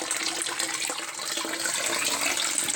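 Water sprays steadily from small holes drilled in a PVC spray bar into an aquaponics tank in a DIY greenhouse, a constant near hiss and splash with no talk.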